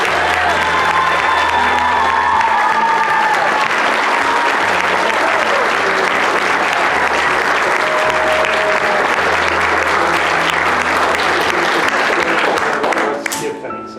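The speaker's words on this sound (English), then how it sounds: "let's give them one more round of applause" A school audience applauds after a production of Little Women, a dense, loud wash of clapping from many hands that runs steadily for the whole stretch, with a faint murmur of voices beneath, before tapering off at the very end.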